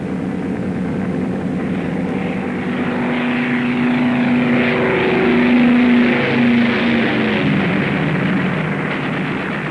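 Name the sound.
WWII bomber aircraft engines approaching the target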